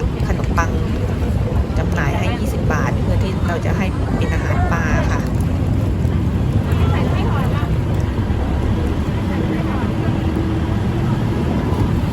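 A steady engine drone and wind buffeting on a river boat ride back to a temple in Bangkok, loud and continuous, with people talking over it.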